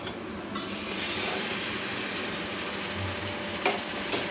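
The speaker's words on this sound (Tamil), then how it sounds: "தக்காளியும் நல்லா எண்ணெய் பிரிஞ்சு வர அளவுக்கு நல்லா வதக்கி எடுத்துக்கோங்க." Tomatoes sauté in hot oil in a pan for mutton dum biryani, a soft continuous sizzle with a few light stirring scrapes.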